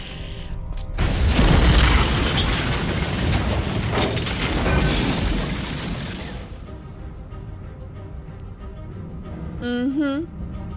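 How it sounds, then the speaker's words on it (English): Controlled explosion in the Batman Arkham Asylum video game, a loud, sustained rumbling boom and crumbling collapse lasting several seconds before fading, with a brief electronic game sound near the end. "I want to make things collapse in a controlled explosion"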